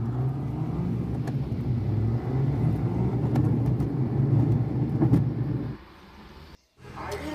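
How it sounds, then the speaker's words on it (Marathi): A car drives along a village road up to the foot of Vardhangad fort, its engine a steady, fairly loud rumble that runs for most of the stretch before dropping away and cutting out near the end. "गाडी इथे पायथ्यापर्यंत येते"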